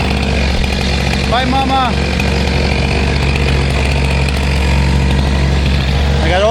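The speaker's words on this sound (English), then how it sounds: "got the chainsaw going" Chainsaw running loud and steady nearby during firewood splitting, a continuous buzzing drone with brief pitch swells, while a person speaks briefly over it.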